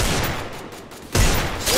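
Rapid gunfire bursts from the Garena Free Fire Clash Squad mode, loud and close, with a brief lull before another sharp volley.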